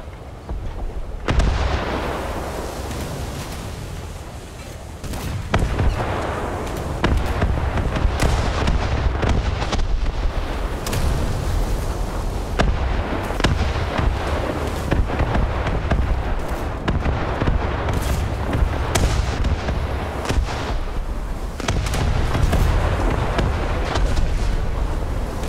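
Naval combat in a video game, with a light cruiser under fire, brings repeated booming gunfire and explosions, rapid bursts and pops over constant rumbling wind and water noise, loud and dense throughout.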